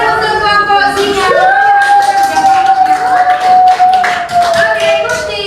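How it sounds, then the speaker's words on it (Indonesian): A group of children claps for the lion team, giving brisk scattered applause close by, mixed with chatter and a sustained tonal sound running beneath. "tepuk tangan untuk kelompok singa"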